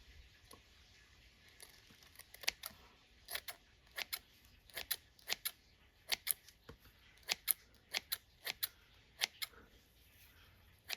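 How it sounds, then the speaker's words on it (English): Long scissors snip through fly-tying material for a popping shrimp fly, a quick series of crisp, close clicks in irregular bursts against a quiet background. "Get a nice long scissor and cut it at an angle."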